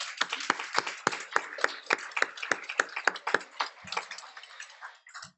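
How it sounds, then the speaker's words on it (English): A small group at a Gold Award celebration gives a sparse round of applause, sharp individual claps falling in a quick, fairly even rhythm before trailing off. "let's give them a round of applause as well"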